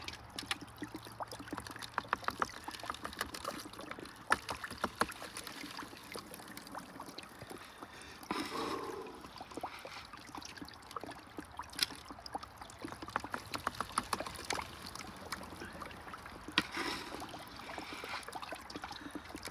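Steady flow of water through a gold sluice box outdoors in winter in Oregon, a constant close trickling rush with occasional splashes and small clicks of gravel, no voices.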